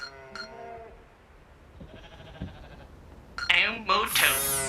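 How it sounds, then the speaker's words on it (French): Sheep bleat in a flock from a French animated Spirou episode, with wavering bleats layered over music and effects, rising loud near the end, with voices mixed in. "Un troupeau de moutons?"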